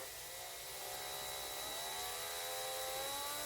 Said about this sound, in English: We're going to bring our old friend out here, the Milwaukee whisk.